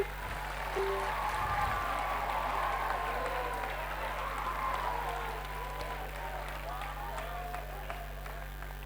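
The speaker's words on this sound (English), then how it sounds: "Can I have a huge round of applause for my children?" An audience at a school's annual concert claps for the performing children, a steady wash of applause that runs throughout with some crowd voices mixed in.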